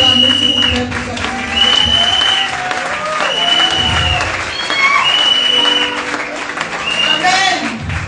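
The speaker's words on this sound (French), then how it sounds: "Acclamez s'il vous plaît pour sa vie." An audience at a graduation ceremony for Ecole Tyrannus in Douala breaks into sustained, dense applause, with voices and music sounding over the clapping.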